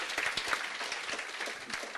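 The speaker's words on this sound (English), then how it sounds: "Can we give him a round of applause for doing this great mind map?" Audience applause at a panel discussion on social entrepreneurship, steady broadband clapping from a seated crowd with no talk over it.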